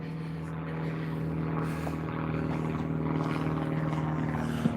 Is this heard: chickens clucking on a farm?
no